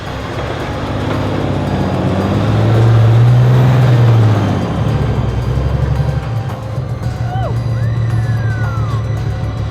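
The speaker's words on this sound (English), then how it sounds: "You in that big truck. This is my truck." A big truck engine rumbles up a snowy driveway, a loud steady drone that swells and peaks midway before settling back, with people talking in the background.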